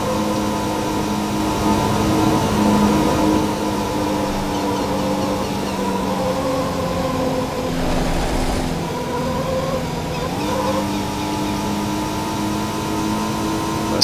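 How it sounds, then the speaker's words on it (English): A Porsche car engine in the video game Need for Speed: Porsche Unleashed hums and revs steadily, its pitch rising and falling through gear changes, continuous and fairly loud with no talking. "The sounds, of course, of a car are interesting."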